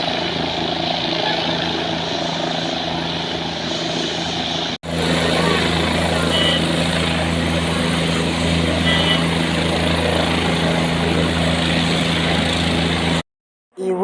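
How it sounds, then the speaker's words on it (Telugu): Tourist helicopter at the Kondaveedu hill festival in Andhra Pradesh, its engine and rotor roaring loud and steady for the whole stretch, broken by one brief cut and a short dropout near the end. "పర్యాటకుల కోసం ఆంధ్రప్రదేశ్ గవర్నమెంట్ ఈ హెలికాప్టర్ని ఏర్పాటు చేసింది."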